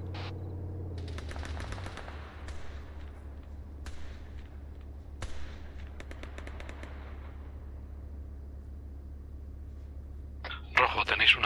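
Bursts of machine gun fire in the military video game ArmA 3, short and long rattling volleys at medium distance with single sharp shots between them and a louder burst near the end, under a low rumble and occasional talk.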